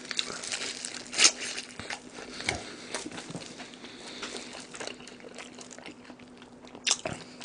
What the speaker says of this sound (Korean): 겁나 쩝쩝대네요.